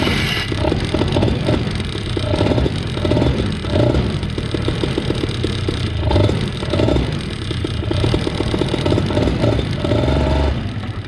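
Blackhawk Talon 190 paramotor two-stroke engine idling low and running rich after a carburetor rebuild, a close, loud, uneven rattling putter with rhythmic pulses, steady throughout without talk.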